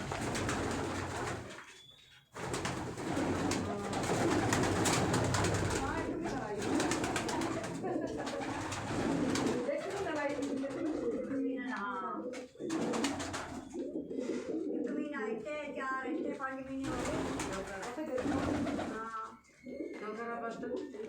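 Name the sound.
pigeons cooing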